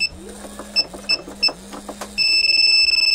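A Yamaha Fazzio scooter's anti-theft alarm chirps in short repeated electronic beeps with a warbling siren pattern, then settles into a loud continuous pulsing tone close by, with no talking.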